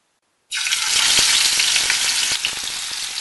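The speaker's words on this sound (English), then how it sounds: "Then fry in hot oil." Rohu fish coated with turmeric and salt drops into hot oil and breaks into a sudden loud, steady frying hiss that holds at full strength with small crackles and pops throughout.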